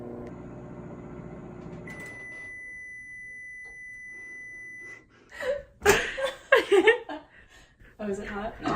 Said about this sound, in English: We're gonna put them in the microwave for 1-minute increments to get that sugar to melt.